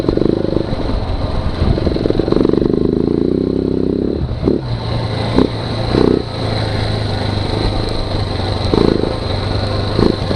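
A KTM 690 motorcycle engine runs steadily at a low, throaty pitch while riding, with a few short revs rising above the constant drone, heard up close.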